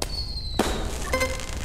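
Fireworks go off in a Christmas-themed video game, a sharp pop followed by crackling sparkle and a brief whistling shimmer, fairly close and with no voices.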